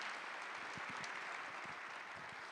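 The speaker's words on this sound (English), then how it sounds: "One more round of applause" Audience applause at a Broadway in Cincinnati season reveal event, a faint, even patter of many hands clapping at a distance throughout.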